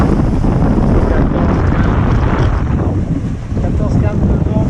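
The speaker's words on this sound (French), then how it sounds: "le vent est là" Strong wind rushing over a sailboat at sea near Corfu, a loud continuous roar buffeting the microphone, with water and hull noise mixed in and no clear talk.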